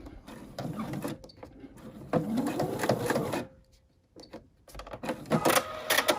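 A sewing machine stitches a small fabric Christmas ornament in short runs, its mechanical whirr starting and stopping several times with quiet pauses between bursts, close by.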